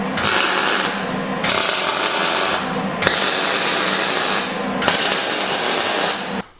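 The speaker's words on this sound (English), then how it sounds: "I'm gonna hurry up and weld this before it falls out again" Welding a metal patch piece onto a Jeep TJ, a steady loud crackling buzz in long bursts of about one and a half seconds each, separated by brief pauses, with no talking.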